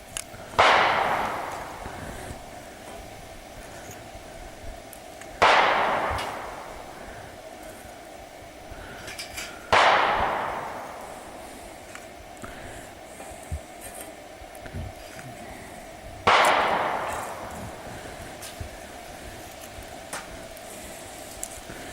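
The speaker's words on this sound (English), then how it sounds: "everybody gets their guns and starts target practicing" Four distant gunshots from target practice before hunting season, each a sharp crack with a long rolling echo, spaced several seconds apart over quiet outdoor background.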